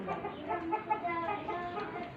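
A Mianwali Aseel rooster clucks softly in short, repeated murmuring calls that sound close but quiet, with faint background noise.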